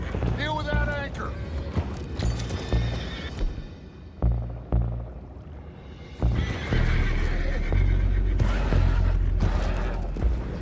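In the video game Red Dead Redemption 2, horses whinny sharply near a river cave amid hoof clops, thuds and a booming blast, loud and chaotic, with characters talking between the sounds.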